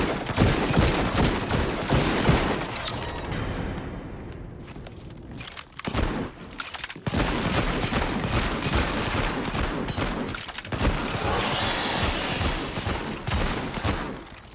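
Dense, sustained gunfire rattles through a subway-level stretch of the video game Subway Nightmare, loud volleys and rapid bursts nearly continuous with brief drops and pauses, a few footsteps mixed in.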